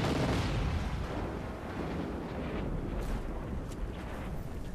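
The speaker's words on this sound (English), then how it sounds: "this Easter egg actually gives us an excuse to shoot a nuke at it" Nuke explosion at a landfill in the video game Just Cause 3, a heavy broadband roaring blast that starts loud and rumbles on steadily for several seconds without fading away.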